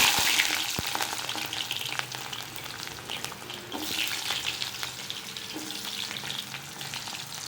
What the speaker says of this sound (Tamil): இப்போது இந்த வெங்காயம் கட் பண்ணி வச்சுக்கிறத போடுறேன்.